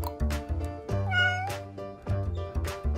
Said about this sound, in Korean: 고양이 가족들도 비가 그쳐서 기분이 좋은가 봐요